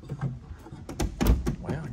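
Door of a 2020 Ram ProMaster City camper van conversion being opened, a run of latch clunks, sliding scrapes and a heavy thump, with some speech mixed in.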